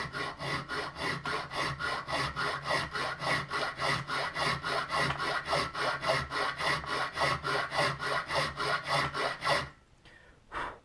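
Light, even strokes of a file sharpening the teeth along the spine of a sawback knife, a steady rhythmic rasp of about two strokes per second, close and loud, stopping near the end with a brief faint scrape.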